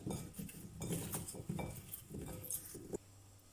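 Potatoes being stirred with oregano, cilantro, paprika and pepper in a kitchen, giving close, irregular clinks and scrapes of utensils against a bowl for about three seconds, then quieting.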